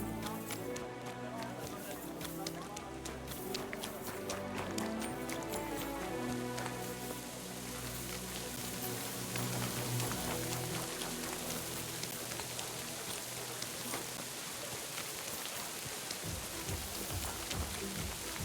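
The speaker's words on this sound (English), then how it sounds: "Don't mind the rain." Steady rain hisses throughout in the video game Kingdom Come: Deliverance 2, mixed with a busy layer of game music and effects, continuous and fairly loud with no pauses.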